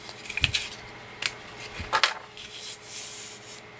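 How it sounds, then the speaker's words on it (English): Paper for a mini album is mitered at the edge with a cutting tool, giving a few short scraping and rubbing strokes, close and fairly soft, separated by pauses, with no speech. "go ahead and miter the edge now"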